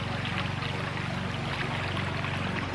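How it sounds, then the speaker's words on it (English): A freshly flooded creek rushes in a steady, continuous wash of flowing water, even and unbroken throughout, with no voices. "so there's the creek."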